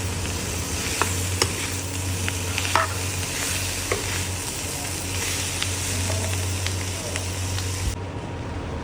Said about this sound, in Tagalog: So halo-haloin lang natin